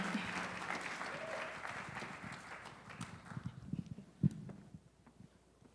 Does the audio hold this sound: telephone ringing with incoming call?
no